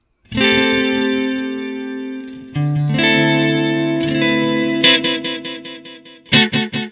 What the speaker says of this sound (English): when you sustain chords, you get a really beautiful chorusy sound.